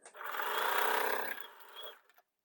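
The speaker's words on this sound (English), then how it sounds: "I can sew the length of this piece" A sewing machine stitches along a quilt block seam for the Gravity Block, running in one steady close whir that eases slightly near the end before stopping.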